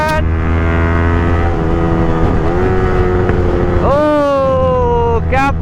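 Motorbike fitted with an R1 exhaust, a loud close engine roar holding a steady note, then revving up sharply in rising pitch sweeps near the end.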